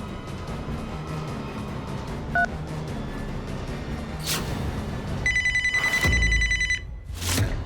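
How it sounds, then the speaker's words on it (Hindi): A telephone being dialed to place a call, with a short tone near the start and then a run of rapid, evenly spaced electronic beeps, loud and close over a steady background hum. "एक जरूरी फोन करना है।"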